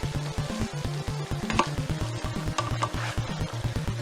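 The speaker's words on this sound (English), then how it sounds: "we're just going to stir everything around." Baked beans stirred in a pot, with a soft, continuous scraping and bubbling sizzle up close and a steady low rhythmic hum beneath it.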